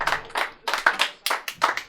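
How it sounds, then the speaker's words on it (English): A handful of people at a live comedy show clap in short, uneven bursts, sparse and close, rather than full applause. "Give it up for our host now."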